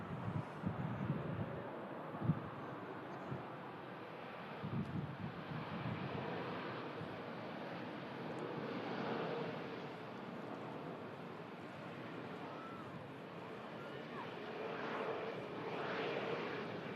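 Pegasus airliner touching down at an airport, a broad steady roar of jet engine noise with gusty wind buffeting the microphone, moderately distant and continuous throughout.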